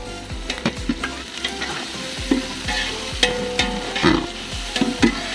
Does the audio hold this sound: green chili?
yes